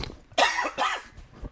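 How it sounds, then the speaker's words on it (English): Two sharp, close coughs from a man recovering from being sick, each a harsh burst with a short gap between them, heard alone without talk. "Apologies again for the coughing."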